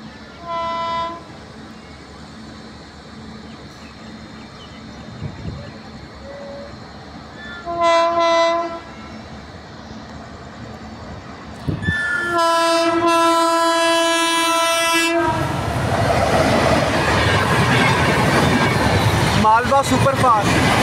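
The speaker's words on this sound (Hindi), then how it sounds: "अम्बाला साइड से एक नॉन स्टॉप ट्रेन, देखते हैं कौन सी है।" A non-stop express train from the Ambala side runs through Rajpura railway station. Its horn sounds in short blasts, then the train roars past loudly and steadily up close, with some voices audible.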